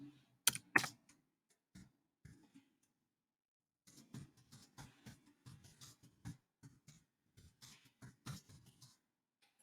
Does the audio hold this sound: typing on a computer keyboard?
yes